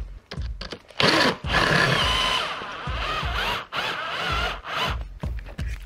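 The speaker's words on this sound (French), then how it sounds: "On va prendre la visseuse." A cordless screwdriver whirs in short bursts while a gaming chair is being put together, with several loud, close runs of the motor separated by brief pauses.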